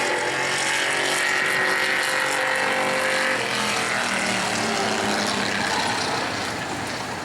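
The number 89 super stock race car runs a qualifying lap at New Smyrna, a loud, sustained engine roar that holds steady before easing slightly near the end.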